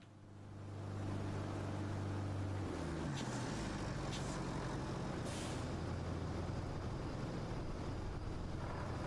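A cargo truck in the RoadCraft video game starts up, a low engine drone rising over the first second and settling into a loud steady rumble with a hissing, air-brake-like texture, with no voices.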